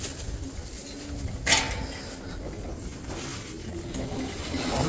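Pigeons coo softly amid outdoor background noise, with a brief sharp clatter early on and low murmuring coos continuing throughout.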